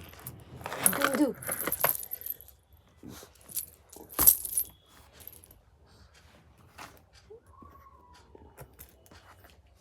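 Keys and a lock jangle and clink as a baby shakes and plays with them, loud metallic rattles in bursts early on, then softer scattered clinks with a faint voice in the background.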